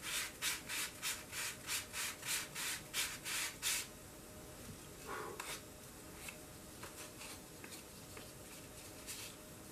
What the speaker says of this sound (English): Usually I sand the parts individually instead of in a block of four